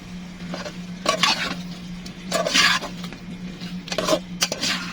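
Chopped tomatoes and green chillies stirred in a pan for a chicken curry, several short scraping and clinking strokes of a spoon against the pan over a faint background hum.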